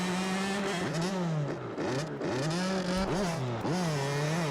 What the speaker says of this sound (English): I'm bumping the clutch a lot and keeping those RPMs up and spinning out.